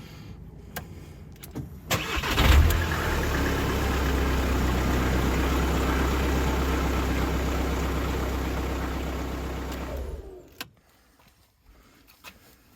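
A campervan engine cranks, starts with a loud low rumble, then idles steadily for several seconds before cutting off, ending in quiet background noise with a few faint clicks.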